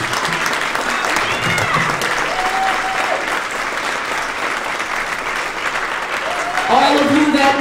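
An audience at a Martin Luther King Day event in a theater applauds in a dense, sustained wash of clapping that swells louder near the end, with voices calling out over it.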